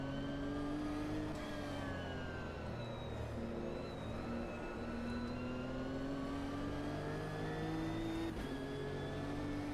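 A Nissan race car in the Automobilista 2 sim racing game drives in the rain, its engine droning loud and close with rising and falling revs across gear changes.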